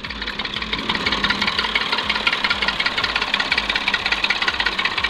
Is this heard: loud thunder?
no